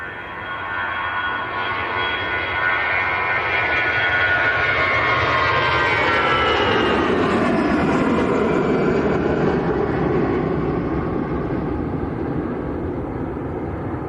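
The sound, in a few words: Emirates Airbus A380 aircraft at Manchester Airport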